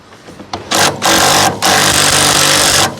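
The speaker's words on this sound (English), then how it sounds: "We're cheating, using power tools." A loud power tool removing bolts from the hood of a 1963 limousine runs in bursts, a short rattling start and then two long steady whirring runs separated by brief pauses.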